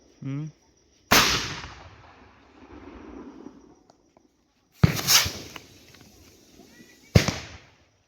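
Firecrackers burst outdoors on the day after Shab-e-Barat, three sharp, loud, close bangs spread several seconds apart with crackling tails, a short voice heard at the very start.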